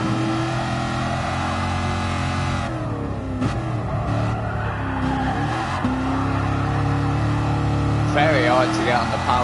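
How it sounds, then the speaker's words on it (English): Shelby Cobra 427 race car on a classic Le Mans time rally, its engine roaring loud and close with revs rising and dipping as the wheels spin, and a brief squeal near the end. A driver talks over it. "You guys can probably hear it's just wheel spinning"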